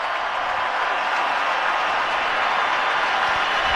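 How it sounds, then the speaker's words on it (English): A ballpark crowd at a Detroit Tigers vs Texas Rangers MLB game applauds pitcher Jose Urania with a steady, dense wash of clapping and cheering that holds evenly throughout. "defying the wave and standing and applauding for Jose Urania"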